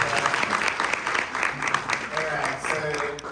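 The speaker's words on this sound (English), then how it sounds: "Round of applause, please." An audience at a SXSW panel on social enterprises applauds, a steady dense clapping throughout.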